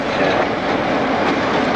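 A Newfoundland Railway train rolling along at Bishop's Falls, a loud, close, continuous rumble with faint rhythmic wheel clatter throughout.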